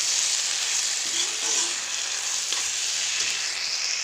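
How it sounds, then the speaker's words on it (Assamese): Kundoli, eggplant and potato fry in a pan, giving a loud, continuous bright hiss of sizzling oil with a few soft stirring scrapes near the microphone. "কুন্দুলি আৰু বেঙেনা আলু এনেকৈ কৰি ভাজিছোঁ।"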